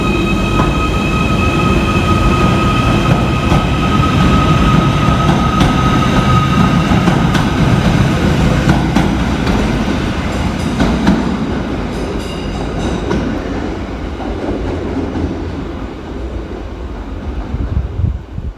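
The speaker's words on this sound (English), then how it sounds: "Next train out to depart is 77708, working the 1302 Merseyrail electric service from Chester through to Liverpool Central." Merseyrail electric multiple unit 77708 pulling out of a station on the Chester to Liverpool Central line, a steady loud rumble of motors and wheels with faint rail clatter, easing slightly as it moves off.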